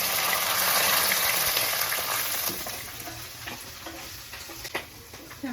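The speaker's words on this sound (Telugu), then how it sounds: "ఇప్పుడు మనము మంచిగా చీల్చి పెట్టుకున్న 4 పచ్చిమిరపకాయలు, మంచిగా ఒక 3 కరివేపాకు రెబ్బలు మంచిగా తిప్పుకొని" Green chillies and curry leaves sizzle in hot oil in a pan, a loud, dense frying hiss that gradually fades, with occasional scrapes and taps of a spoon stirring.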